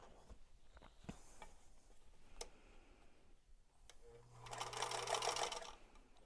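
After scattered clicks and handling of fabric, a sewing machine runs briefly, about two seconds of close, rapid needle chatter as it stitches the ends of quilt block pieces together.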